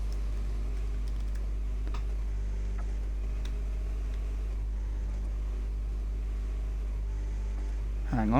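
Keys on a computer keyboard tap in a quick, light patter, faint beneath a steady low hum that runs throughout.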